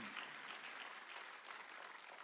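A church congregation claps together during a Sunday afternoon worship service, a dense, steady burst of applause from the gathered worshippers that holds evenly throughout at a moderate, somewhat distant level.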